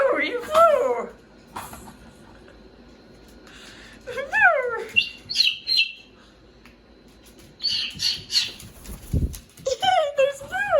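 A pet cockatoo named Boo gives squeaky, rising and falling calls and chirps in short bursts, close by, mixed with other bird sounds and a soft thump.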